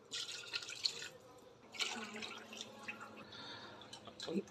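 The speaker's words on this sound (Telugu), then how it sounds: "ఆరు గ్లాసుల వాటర్ పోసుకున్నాము" Soft splashing and trickling of water poured by the glass into a pot of chicken biryani, in a few short bursts with quiet gaps between.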